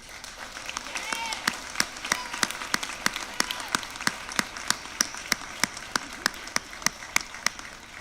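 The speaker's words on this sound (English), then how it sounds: "help me to give a round of applause to everyone that's here tonight to support you" Sharp, evenly spaced claps from a graduation ceremony audience keep a steady beat throughout, with voices talking and calling out over them.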